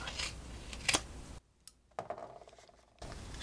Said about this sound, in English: I'm just going to use my scissors to cut this down the middle